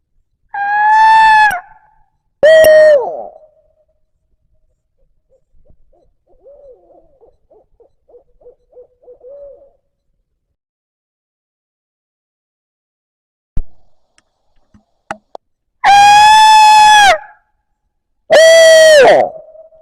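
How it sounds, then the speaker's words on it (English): Wild turkey gobblers gobble from the roost, several loud harmonic calls in rapid bursts near the start and again near the end, with quiet faint calls and a few clicks in between. "Yeah, we got birds gobbling over there too."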